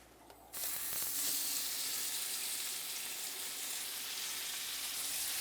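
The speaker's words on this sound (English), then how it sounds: "So the butter's brown. You can see it's got a little brown to it." Scallops hit a pan of browned butter with a sudden loud sizzle that then holds as a continuous, close frying hiss.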